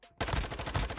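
A loud, rapid burst of gunfire in Call of Duty: Modern Warfare 2 breaks in suddenly after a brief silence and continues as dense, rattling shots.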